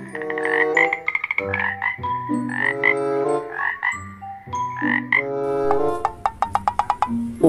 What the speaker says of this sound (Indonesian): Wow, ini kodok.